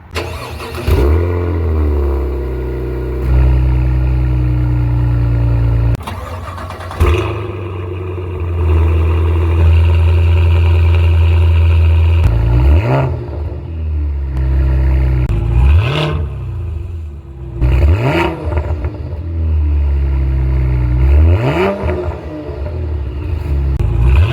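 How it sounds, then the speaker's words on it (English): A Cadillac Blackwing sports sedan exhaust idles with a deep rumble, then is revved several times, each rev rising sharply and falling back, loud and close. "here's a nice exhaust clip of them"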